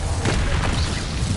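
A Bombarda explosion spell in Hogwarts Legacy, a single deep, loud boom with a sustained low rumble lasting over a second.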